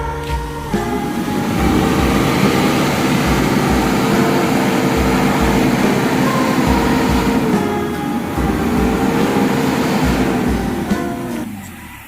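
An Isuzu Trooper with a low power problem is revved near the vehicle, the engine climbing to a strained, steady roar, dipping once, then building again before it drops back.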